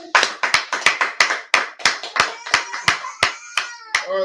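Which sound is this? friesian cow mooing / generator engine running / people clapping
people clapping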